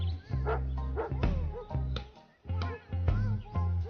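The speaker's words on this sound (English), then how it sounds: "Always barking at the squirrels." A dog barks at squirrels outdoors in a monster sci-fi movie scene, loud and near, in uneven volleys of sharp barks separated by brief gaps.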